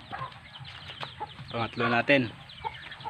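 Native chickens cluck and squawk on a Philippine farm, a cluster of close, loud clucks with scattered calls, while someone talks nearby.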